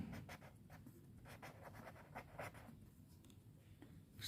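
Chalk or marker scratching across a board while writing out a trial balance entry for opening stock, a steady run of short strokes close by with no talking.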